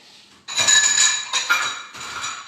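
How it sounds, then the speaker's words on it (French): Dishes and glassware clink and clatter while being washed up in a kitchen, several sharp bright knocks in quick irregular bursts, close by with no talk. "Désolée pour le bruit de la vaisselle."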